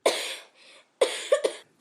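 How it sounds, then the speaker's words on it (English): Two bursts of coughing close up: a single harsh cough, a short pause, then a rapid cluster of two or three coughs. "coughs"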